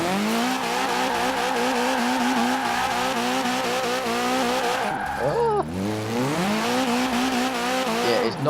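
A Ford Capri FE races in Forza Horizon 4, its engine droning at high revs, then dropping sharply through a gear change before climbing again, with tires squealing over the loud, continuous engine note.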